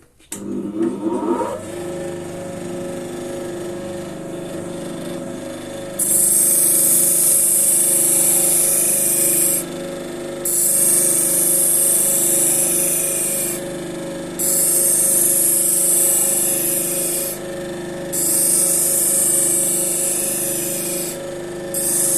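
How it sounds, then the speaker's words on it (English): A half-speed buffer spinning a solid felt wheel loaded with green rouge: a steady motor whine and hum that swells into a harsh, loud grinding hiss during each of several passes, broken by short gaps, with no talk. "Half-speed buffer. We will do 6 passes on the solid felt wheel with green rouge and estimate the heating."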